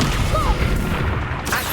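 Reductor blasting spell cast in the video game Hogwarts Legacy, a loud booming crash amid layered combat effects and brief vocal sounds, dense and close.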